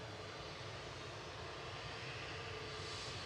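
An EasyJet Airbus A320neo taxiing at Manchester Airport, a steady, faint engine whine and broadband roar from some distance, unbroken and without voices.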